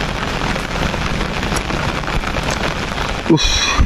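Heavy rain pours steadily in a dense, even wash of hiss and patter, loud and close throughout, with a brief sharper splash or knock near the end.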